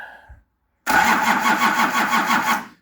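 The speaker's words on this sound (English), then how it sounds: "I'm just going to start this truck" Nissan LD28 diesel engine in a truck that has not run for years cranks and catches, jumping into a loud, rough, rattling idle after a short silence, heard up close.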